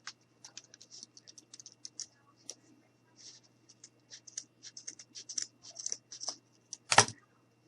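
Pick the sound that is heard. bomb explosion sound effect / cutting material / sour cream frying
cutting material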